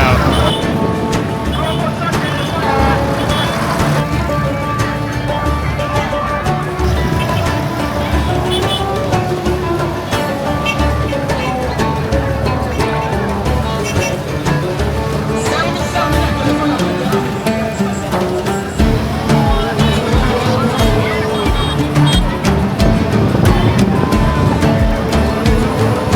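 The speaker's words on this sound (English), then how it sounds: "we're gonna be just driving through this market again" Driving through a loud, chaotic street market in Pointe Noire, Congo: dense music and crowd voices fill the air continuously over the low hum of the vehicle, busy and close throughout.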